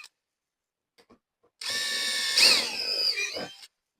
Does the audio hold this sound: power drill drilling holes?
yes